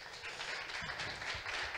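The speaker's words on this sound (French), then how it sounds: "si vous pensez à la même chose que moi, vous les applaudissez" An audience at a talk on energy renovation of co-owned apartment buildings applauds, a dense, even patter of many hands clapping throughout, fairly soft and a little distant.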